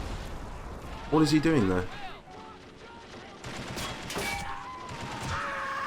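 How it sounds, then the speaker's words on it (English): Artillery and small-arms gunfire in the Army Men game AMOW, scattered booms and shots with a loud burst early on, heard under someone talking. "Now the artillery position is taking a lot of fire."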